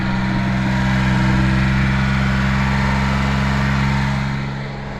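A Daihatsu Midget engine idles just after a cold start, a loud, steady low mechanical drone with even harmonics that eases slightly near the end, and no one speaks.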